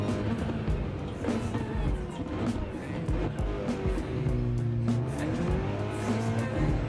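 Racing cars roar and rev continuously with intermittent tyre squeals at a dusty Red Bull motorsport event, engines rising and falling in pitch as they pass close by.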